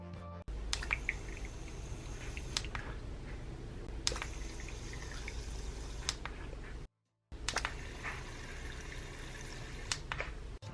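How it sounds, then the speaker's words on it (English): Water pumped through a miniature DIY faucet trickles into a small sink in a recirculating loop, a faint, steady flow over a low pump hum, briefly cut to silence midway. "watch the water flow beautifully out of the faucet and into the sink"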